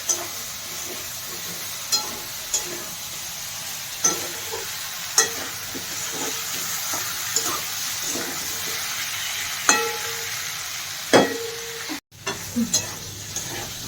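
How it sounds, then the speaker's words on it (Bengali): Taro fries in a pan with a steady close sizzle, punctuated every second or two by sharp spatula scrapes and taps as it is stirred, with a brief drop near the end. "একটু ভাজা ভাজা হয়ে যাবে তারপরে আমি টমেটোটা দেবো তারপরে মশলাটা দেব এটা ভাজা হতে থাকে"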